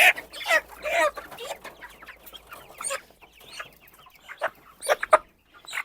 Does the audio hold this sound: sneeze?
no